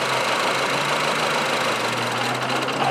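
A Honda Civic engine idling with the number 1 ignition coil unplugged, a steady low hum with an uneven, lumpy rhythm and faint knocking, close and alone.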